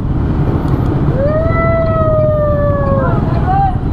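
A police siren passes through heavy city traffic, one long rising-and-falling wail standing out over a steady engine and road rumble, moderately near and then fading.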